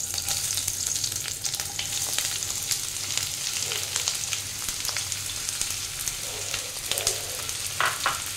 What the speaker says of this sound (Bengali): এবার আমি একে একে পেঁয়াজ কুচিটা দিয়ে দিচ্ছি।